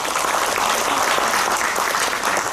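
Steady, dense applause from a conference audience at a climate and school-meals event, continuous and loud throughout with no voices standing out.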